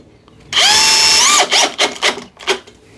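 A loud Bosch power drill whines steadily for about a second, then gives several short bursts as it drives a 3.5 by 30 mm screw home.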